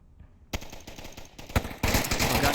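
Rapid automatic gunfire from the VR shooter game Onward crackles in quick bursts after a short quiet moment, growing denser and louder as the shots continue.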